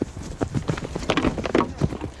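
Horse hooves pounding in a cavalry charge into a shield wall, a rapid run of heavy, uneven thuds that swells louder toward the middle, close and dominant with no speech.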